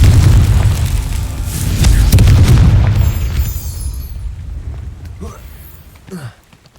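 A Confringo spell explosion in Hogwarts Legacy erupts as a loud, deep boom with rumbling debris that fades over several seconds into quieter crackles and game effects.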